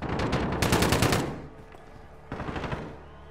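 Gunfire in Call of Duty: Modern Warfare, with two rapid automatic bursts close and loud and a brief pause between them, and no voices.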